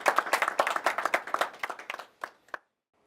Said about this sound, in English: I think we should clap for you first.